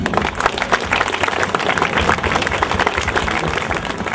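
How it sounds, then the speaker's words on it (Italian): Audience at an evening Miss Ferrari 2012 pageant gives loud, dense applause, many hands clapping continuously throughout with a few crowd voices under it. "voglio veramente un applauso per il suo consenso a questa serata."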